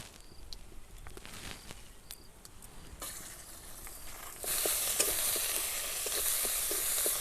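Spices frying in hot mustard oil in a wok for a Bengali shol fish and mango curry, with a steady sizzle that grows louder and denser partway through, without any speech.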